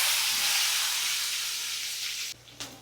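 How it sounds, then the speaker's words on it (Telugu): Green chillies and curry leaves fry in hot oil in a pan for masala dosa, giving a loud, steady sizzling hiss that runs throughout and breaks off briefly near the end. "చిల్లీస్ కొంచెం ఫ్రై అవ్వాలన్నమాట"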